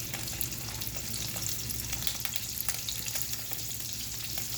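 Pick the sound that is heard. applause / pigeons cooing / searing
searing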